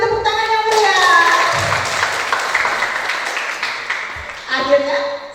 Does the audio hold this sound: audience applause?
yes